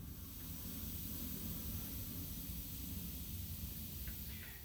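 An airbrush spraying paint with the trigger barely pulled back, a soft continuous hiss of air, faint and steady, with a few light ticks near the end.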